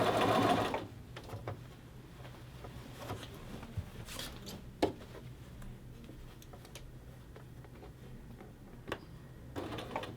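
A sewing machine sews a collar band onto a men's shirt in a brief, fairly loud whirring burst, followed by quiet, sparse ticks and clicks of the machine.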